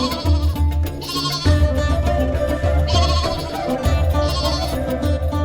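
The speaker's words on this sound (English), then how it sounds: "the herds of sheep and goats are let loose to roam along the grassy" A herd of sheep and goats on grassy high mountain slopes in an Iranian village bleats continuously, many overlapping calls at mid distance with a steady low rumble beneath.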